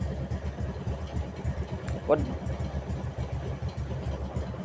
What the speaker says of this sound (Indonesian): satu kali pancal starter gini langsung hidup